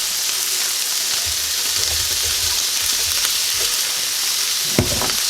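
Potatoes frying in a pan for smoked sausage hash make a steady, close sizzle throughout, with low stirring scrapes partway through and a sharper knock near the end.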